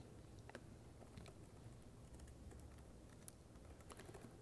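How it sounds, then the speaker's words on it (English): Rapid typing on a computer keyboard at a desk during a live software demo, with irregular soft clicks and taps running steadily through the clip over a low background hum, no talk. "I told you didn't want to see me typing."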